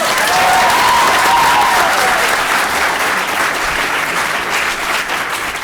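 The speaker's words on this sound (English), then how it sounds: "Applaud if you liked Avengers." A convention panel audience at PAX 2012 bursts into loud, dense applause and cheering that holds steady for several seconds, filling a large hall.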